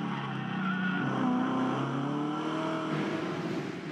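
V8 ute race cars battle at the 2012 Clipsal street race, with the engines' high revving howl rising and falling as the pack accelerates, and tires squealing under hard cornering, loud and continuous.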